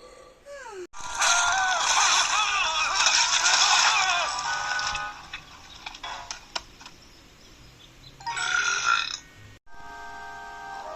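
Burps sounded out loud, a long croaking belch lasting a few seconds followed by a shorter one later on, close and loud, with brief vocal sounds around them.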